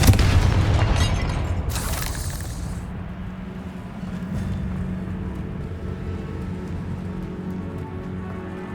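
In the video game Hogwarts Legacy, the Confringo explosive spell sets off a sharp, loud blast. It fades into a low rumbling hiss and quieter background ambience.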